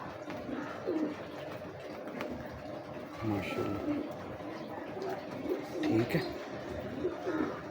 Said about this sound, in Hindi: ये मियाँ नज़ीर साहब वाले कबूतरों में से ही हैं बच्चे